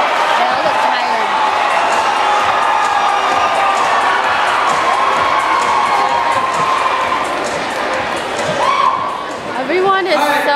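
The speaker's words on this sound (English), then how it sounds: "we're going to do a couple more cheering" Students at a high school assembly cheer and shout together, a loud dense crowd roar that holds steady throughout with whoops and voices on top, dipping briefly near the end before rising again.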